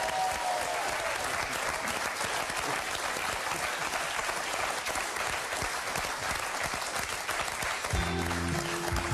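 A studio audience on the French game show Burger Quiz claps loudly and continuously, a dense wall of applause that holds steady until a brief musical cue enters at the very end.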